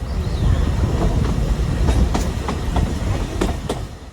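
Alishan Forest Railway train running through mountain forest, a steady loud rumble with rhythmic clickety-clack of wheels over rail joints, continuous and close throughout.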